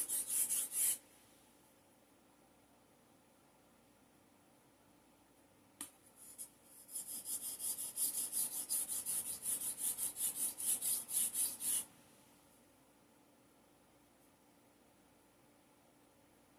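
A chisel is sharpened freehand on a sharpening stone, with a steady hissing scrape of strokes running for several seconds after a brief earlier rub, close and fairly quiet.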